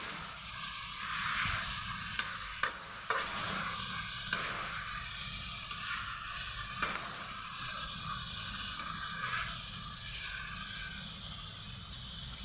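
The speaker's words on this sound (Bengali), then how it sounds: "মাংস কষানো সেটা আর কাউকে বলতে লাগবে না" Chicken pieces frying and being stirred in a kadai for chicken biryani, a steady broadband sizzle with scattered scraping clicks of the spoon against the pan, moderately close and without talk.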